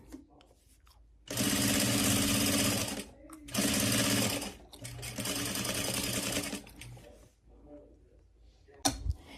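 A sewing machine stitches a Valentine's Day tote bag in three loud, steady running bursts separated by short pauses, close by, with faint talking in the quieter gaps.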